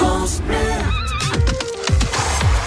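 Connemara pony neighing at a breeding farm, a loud close whinny with a rising, wavering tone, followed by snorts and fading calls, alone without talk.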